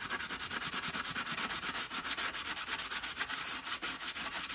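Very fine sandpaper rubs over a plastic part of a Rainbow SE during repair and polishing, making quick, evenly paced back-and-forth scratchy strokes that are close and fairly soft, with no talking.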